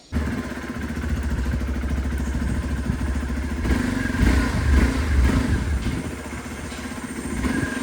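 A village motorcycle left standing unstarted for about a week, dusty, runs with a steady mid-pitched engine drone and clatter, rising briefly as it is revved before settling back toward idle.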